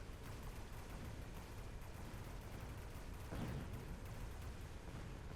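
Artillery barrage in the video game Mechabellum, a dense, continuous rumble of distant gunfire and explosions, fairly faint and unbroken, with one slightly louder burst midway and no talk.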